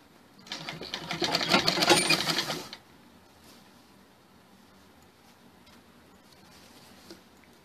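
Domestic sewing machine stitching the sleeve onto a blouse, a loud, steady run of rapid needle clatter lasting about two seconds, then stopping, leaving faint room noise with no talk.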